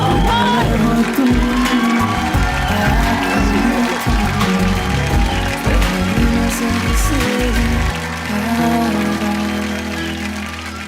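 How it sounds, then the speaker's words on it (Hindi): A studio audience on a television comedy talk show applauds and cheers a guest, loud clapping mixed with whoops and crowd noise over music, fading slightly toward the end. "जोरदार तालियां"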